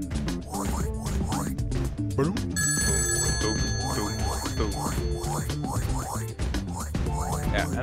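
A telephone rings repeatedly at a British phone booth in a video game, a bright electronic trill over busy game music and effects, with people talking over it.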